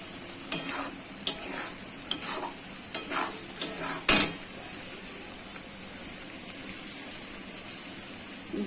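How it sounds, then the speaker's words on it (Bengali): Spice paste with salt, cashews, melon seeds and poppy seeds for potol korma is stirred and fried in a pan, several scraping strokes over a soft steady sizzle that carries on alone, no speech. "ভালো করে মশলাটাকে এবার কষাতে হবে।"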